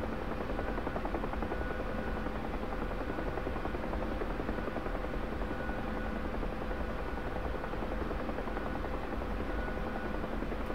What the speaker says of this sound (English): This Huey can stay airborne for quite some time.